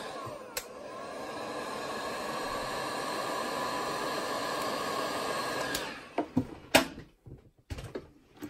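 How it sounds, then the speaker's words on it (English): Heat gun blowing a steady, loud broadband hiss for several seconds while shrinking heat-shrink tubing, then cutting off, followed by a few scattered clicks and handling knocks. "Just shrink that down with the heat gun."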